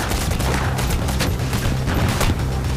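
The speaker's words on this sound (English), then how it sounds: "Look out! Secondary explosion!" Loud, continuous gunfire and blasts fill a firefight in Payday The Heist during a prison transport heist on Green Bridge, with dense bursts and booms running steadily throughout.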